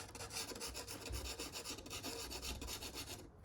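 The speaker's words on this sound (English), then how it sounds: "backwards and forwards sawing motion strokes here to get that pencil on" A pastel pencil rasps steadily back and forth across paper in rapid, even strokes while drawing a dog, close and fairly quiet.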